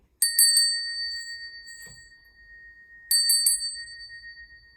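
A high, clear bell is struck in quick clusters, its bright tone ringing on and slowly fading before another set of strikes rings out. No voices.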